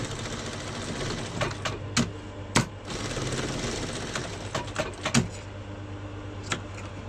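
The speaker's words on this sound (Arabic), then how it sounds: "دوز ليها خياطة" A sewing machine stitches trousers in steady mechanical bursts, loud and close, its run broken by sharp clacks and brief pauses.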